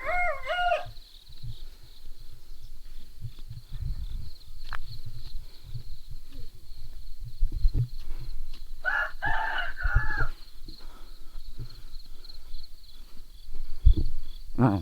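A rooster crows in a rural Thai village, two clear crowing calls, one at the very start and a longer one midway, over a constant shrill drone of insects and low outdoor rumble.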